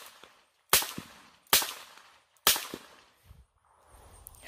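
Three sharp, loud .22 caliber pistol shots ring out roughly a second apart, each cracking suddenly and trailing off in a short decaying echo, followed by quiet rustling.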